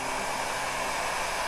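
A heat gun blows on a roll of Woodubend flexible wood trim, making a steady, loud, close-up whooshing hum with no break.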